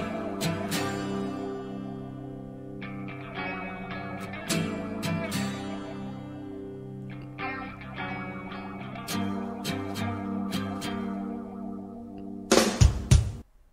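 Opening of a song with light, effect-laden chorused guitars ringing over a steady heavy low end, loud and continuous, with a louder burst near the end.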